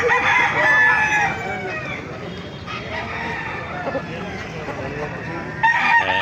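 Roosters, including Boston Brownhead gamefowl, crow repeatedly at a busy chicken market in Baliuag, Bulacan, with overlapping loud calls near and far over a steady din of crowd chatter.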